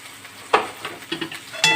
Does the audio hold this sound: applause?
no